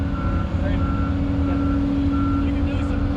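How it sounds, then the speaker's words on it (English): A Volvo machine sounds repeated warning beeps at a steady rhythm as it spins, over a constant low engine drone, with a voice nearby. "Is that it beeps when it spins."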